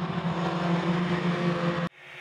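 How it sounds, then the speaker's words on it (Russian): Buran snowmobiles roar off the start of a ten-rider race finale, their engines loud and sustained together before cutting off abruptly, with quieter ambience after. "рев моторов и возгласы болельщиков"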